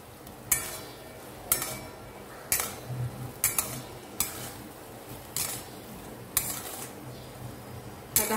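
Rice being stirred into a pan for sweet coconut rice, a spoon scraping and knocking against the pan in repeated sharp strokes roughly once a second, close and clear over a faint kitchen hiss, with no talk.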